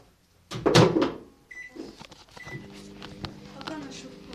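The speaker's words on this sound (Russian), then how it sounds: "Убираем микроволновку и ставим ровно на 1 минуту." A microwave oven set to run for one minute while warming butter for cookies: a clunk and clatter of the door closing, a couple of short beeps, then a steady low hum running on.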